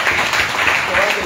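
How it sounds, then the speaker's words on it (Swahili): Church congregation applauding for Mrs. Adams, a steady wash of clapping filling the short moment with no gaps. "Adams makofi mazuri"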